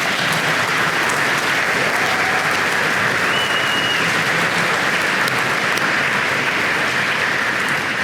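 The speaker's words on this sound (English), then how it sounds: "Let's give all of our students and parents one more big round of applause." Sustained, loud applause fills a hall at an academic awards banquet, a dense, even wash of many hands clapping for several seconds with no speech over it.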